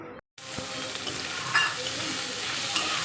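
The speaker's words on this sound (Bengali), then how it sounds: "পেঁয়াজ আর শুকনো লঙ্কা দিয়ে হচ্ছে কুদরি ভাজা" Ivy gourd fries in a pan with onion and dried chilli, a close, steady sizzle with light stirring scrapes, after a very brief silent gap at the start.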